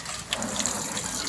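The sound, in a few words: boiled shellfish and water being poured out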